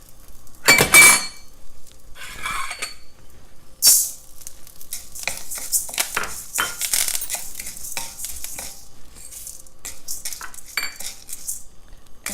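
Curry leaves fry in a pan while roasting lentils and spices for a spicy powder, with a crackling sizzle behind loud, close metallic clinks and scrapes of a spoon against the pan, coming in irregular bursts.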